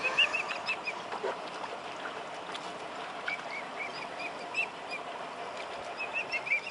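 Young swans give faint, scattered squawks close to a boat in Norway, over a steady wash of water and hull noise.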